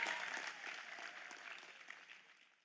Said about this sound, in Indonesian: Tepuk tangan kan Tony.